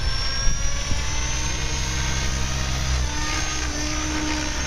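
A Diabolo minicopter, a small radio-controlled helicopter, hovers during a low head speed test, producing a steady, loud rotor whine and buzzing drone that holds constant throughout without speech.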